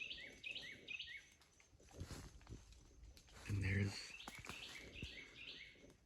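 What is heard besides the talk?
birds calling in the forest, including an owl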